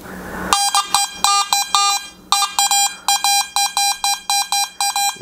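Metal detector beeping over a piece of scrap metal, giving a rapid, irregular run of loud electronic tones that stutter on and off, alone with no talk.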